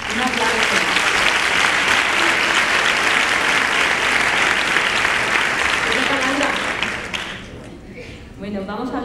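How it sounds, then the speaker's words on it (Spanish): An audience at a 25th anniversary ceremony breaks into loud, sustained applause that fades near the end. Talk comes through over the clapping. "Un aplauso."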